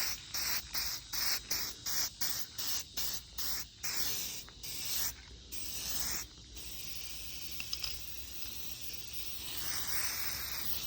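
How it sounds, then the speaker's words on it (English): An aerosol product sprayed onto a BMW E36 car part during an engine swap, heard as a rapid series of short hissing bursts, then longer continuous sprays, close and fairly quiet with no talking. "So I guess you're supposed to spray this on and then let it dry for a couple minutes."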